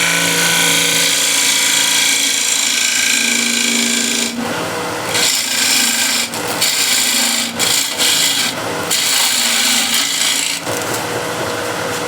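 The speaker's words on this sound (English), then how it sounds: "I'm stopping the lathe a little bit more often than I usually would" A wood lathe turns a hexagon-shaped plate, giving a loud, continuous rasping hum that breaks into choppy, interrupted scraping bursts partway through as the tool meets the spinning edges; no one speaks.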